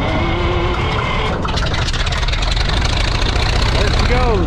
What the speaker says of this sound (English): Give it some choke. And then hit the starter button.